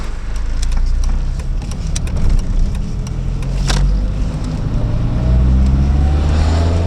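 A 1996 Volvo 440 hums along while driving, a steady low engine drone with road and wind rumble inside the car, pitch rising slightly as it picks up speed.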